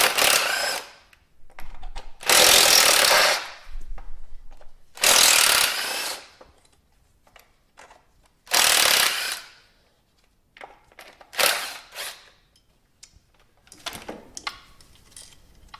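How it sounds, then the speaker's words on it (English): An electric impact wrench removes 10mm bolts on a Dodge Neon's ignition coil, with several bursts of loud buzzing rattle separated by quiet pauses, close by. "I'm using the electric impact right now, and there's just 4 bolts which we have to remove"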